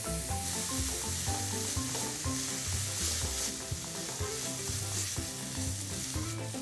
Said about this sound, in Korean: 자, 그냥 바로 그대로 그냥 볶아주시면 돼요. 이러면 바로 불고기 돼요.